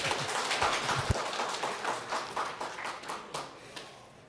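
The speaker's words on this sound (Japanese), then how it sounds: "それでは藤井さんを拍手でお迎えください。" Conference audience at a Python developer event clapping to welcome a speaker, a moderate, fairly sparse patter of hands with a few sharper close claps early, thinning and fading out toward the end.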